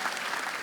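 A church congregation claps in enthusiastic applause during an online worship service, a dense, steady wash of many hands heard briefly and close.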